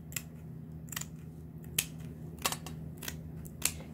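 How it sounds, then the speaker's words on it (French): Scissors snipping through fabric while trimming a table-decoration pouch bag with a small margin, a series of sharp, close, isolated cuts spaced irregularly over a low steady background hum. "je viens couper pareil de ce côté là je laisse un peu de marge"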